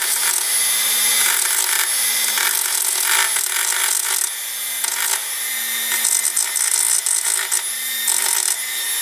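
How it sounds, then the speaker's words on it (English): A Dremel rotary tool grinds burrs off metal on a CFMOTO UTV, a loud, continuous high-pitched buzz with uneven scraping surges as it contacts the workpiece, briefly easing off midway before resuming. "Took our Dremel, just kind of"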